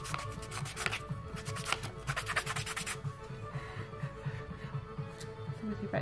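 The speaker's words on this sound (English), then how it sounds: "So by not pressing hard, you can see the lines are quite easily rubbed out." A Derwent battery-operated eraser spins against paper to rub out pencil lines, giving a steady whirring, scrubbing buzz with a stronger pulsing stretch early on, close and alone throughout.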